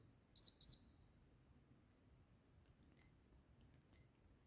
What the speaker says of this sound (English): It has some alarm test here.